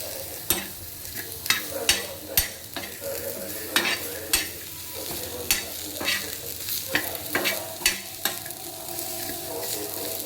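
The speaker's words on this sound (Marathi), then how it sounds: "कांदा खरपूस लाल होईपर्यंत भाजून घ्यायचा" Chopped onions frying in a pan, a continuous close sizzle punctuated by a dozen or so sharp clacks of a spatula stirring and scraping at an irregular rhythm.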